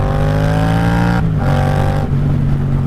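A Yamaha FZ-07 motorcycle engine revs loud and close, its steady harmonic drone dipping briefly twice as the throttle blips, then climbing again with strong low-end growl.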